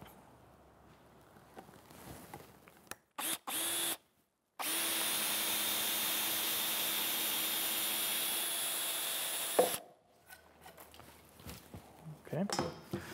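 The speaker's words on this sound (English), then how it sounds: "I'm going to drill for a 3/4 inch peg." A power drill bores a peg hole for a 3/4 inch peg through timber in a pegged mortise and tenon joint, a steady loud whine lasting about five seconds after a few short starts, with quieter handling noise around it.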